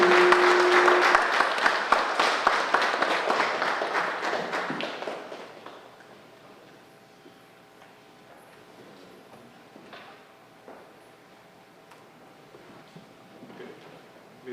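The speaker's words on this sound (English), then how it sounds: "Ladies and gentlemen, please stand for a round of applause" A standing audience at an academic journal launch gives a round of applause, with brisk clapping that is loud at first and fades out after about five seconds, leaving a quiet room with scattered taps and soft movement.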